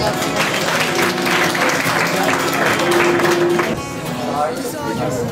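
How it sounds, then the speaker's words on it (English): A large audience claps loudly and continuously for the Oblates, fourth-year students, after their Christmas intermission number, the dense applause dipping slightly near the end. "Let's give them a round of applause."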